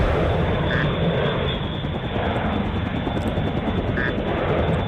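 A fighter plane flies in a combat video game, with a dense, steady engine roar that stays loud and unbroken throughout, alongside a couple of short electronic tones.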